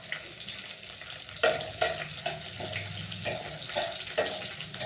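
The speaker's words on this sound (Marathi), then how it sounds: "लसूण चांगला तळू द्यायचा आहे त्यामध्ये" Garlic, cumin seeds and green chili fry in oil in a pan on low heat for a quick okra dish, a steady sizzle with soft stirring scrapes and no voices.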